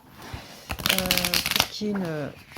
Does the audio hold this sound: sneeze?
no